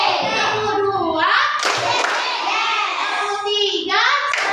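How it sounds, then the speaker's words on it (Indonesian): A classroom of children clap in rhythmic bursts during a counting clap game, patterned claps mixed with their chanting voices, close and loud throughout. "Tepuk dua."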